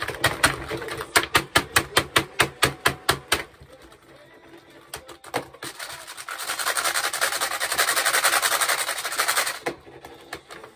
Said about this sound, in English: This keyboard makes me slow.